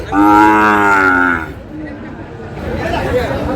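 Cattle at a busy livestock market (haat) in Dinajpur, with one loud, drawn-out moo up close lasting over a second, then a murmur of crowd chatter and market bustle beneath.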